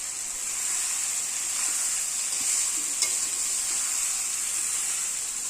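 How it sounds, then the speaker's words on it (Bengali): Fish oil sizzling with spices in a pan while being stirred, a steady, fairly loud frying hiss that continues unbroken, with a faint scrape of the utensil partway through. "তেলটা আমি এই মশলার সাথে দিয়ে দিব।"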